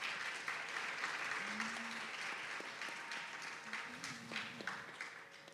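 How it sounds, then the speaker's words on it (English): An audience applauds a mother-daughter duo at a Bharatanatyam arangetram dance recital, a steady, fairly faint patter of many hands lasting throughout. "Let's hear a round of applause for our mother-daughter duo for this evening"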